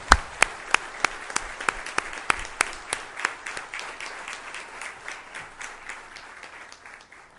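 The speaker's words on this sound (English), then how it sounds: "may I please request you to give him a thundering applause." Audience applause at an Indian Merchants' Chamber event, opening with sharp, distinct claps that quickly thicken into a steady wash of clapping, then gradually thin and fade.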